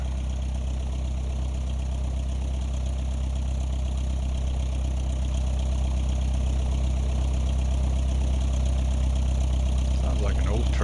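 An XCrafts ERJ aircraft engine idles in the X-Plane flight simulator with a steady, low droning hum and rough mechanical texture, constant and loud throughout, rising slightly in the final second.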